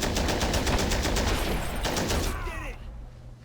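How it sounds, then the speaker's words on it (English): Rapid gunfire fills a battle in the video game Men of War: Assault Squad 2, dense machine-gun bursts and shots rattling loudly before thinning out toward the end. "they're still gonna get shot by my sniper."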